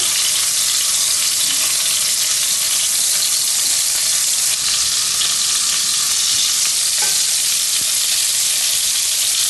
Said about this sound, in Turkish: Etlerimi mühürledim.